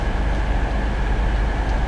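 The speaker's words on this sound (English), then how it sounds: "here is the 1936 to Cardiff Central" The 1936 service to Cardiff Central arrives at a station, a steady loud low rumble of a passenger train rolling in with a constant broadband roar and no distinct clacks or voices.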